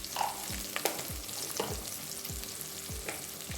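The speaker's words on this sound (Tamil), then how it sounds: "நல்லா ஃப்ரை பண்ணி வேணும்" Goat lungs fry with spices in a pan, a steady sizzle under repeated scraping strokes of a spoon stirring at an even rhythm, close and alone with no voices.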